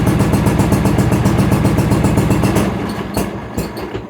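A Yard-Man lawn tractor engine runs cold with a steady, loud chugging rhythm, then the sound thins and sputters near the end instead of rising in pitch.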